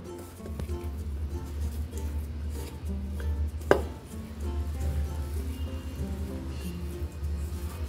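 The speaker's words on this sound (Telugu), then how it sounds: "ఇప్పుడు ఈ పిండిని అంతా కూడా ఈ ముక్కలకి బాగా కలిసేలాగున కలుపుకోవాలి." Gram flour worked by hand into chopped cabbage pieces for pakoda, a continuous wet squishing and rustling with a single sharp clink of a utensil midway, close and moderately quiet, no talk.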